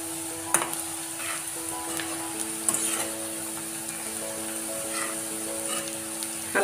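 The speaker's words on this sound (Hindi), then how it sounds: "इसको चलाते रहे बार बार" Chicken biryani ingredients fry in a pan, a steady close sizzle with occasional clinks and scrapes as they are stirred over and over, moderately loud and without speech.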